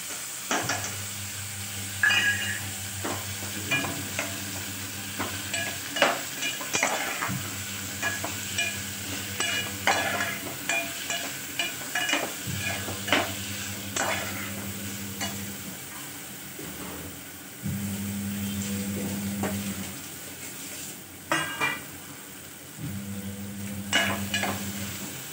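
Onion, tomato and ginger-garlic paste sizzle steadily in a pan, with frequent spoon scrapes and stirring clinks over a continuous frying hiss, interrupted by a recurring low electrical hum.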